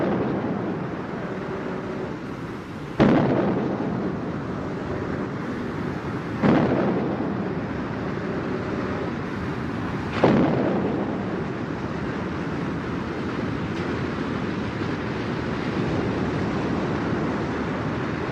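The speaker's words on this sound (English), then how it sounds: "The platforms were then destroyed by gunfire" Naval gunfire strikes offshore oil platforms: three heavy, distant booms roll out at spaced intervals over a constant rumble of wind and sea.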